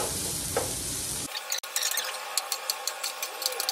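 Small chicken pieces fry in oil in a pan with a loud, dense sizzle at first. It then gives way to lighter scraping and clinking as the pan is stirred. No voices are heard.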